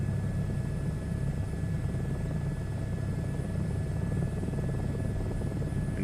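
A helicopter flies in a VR flight simulator game, its rotor and turbine making a continuous rumbling buzz at steady loudness throughout, with no voices.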